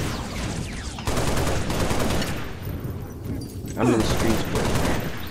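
Rapid bursts of gunfire from the Halo Reach video game crackle through most of the stretch, dense and loud, with someone talking excitedly over the shooting.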